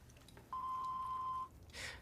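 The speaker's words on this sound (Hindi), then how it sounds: "कृपया बीप के बाद अपना मैसेज छोड़ें।" A single steady electronic tone of about one second, the voicemail beep before a message, sounds clearly over a faint background hiss, followed by a brief soft breathy noise.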